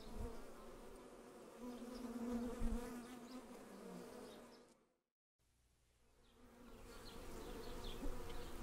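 A steady, dense drone of many honeybees buzzing close by, continuous and even with a single brief dropout to silence partway through, no voices.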